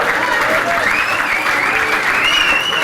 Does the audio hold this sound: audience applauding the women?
yes